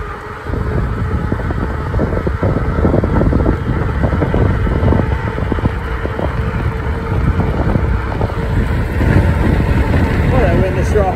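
Strong wind roars steadily into the microphone while riding an Ecotric fat tire electric bike outdoors on a cool day, a continuous loud buffeting rumble across the whole stretch.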